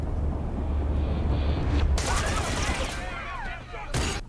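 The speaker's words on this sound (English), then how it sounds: "Were those gunshots?" Burst of gunfire from a TV drama scene, several sharp loud shots clustered near the middle and again near the end over a steady background rumble.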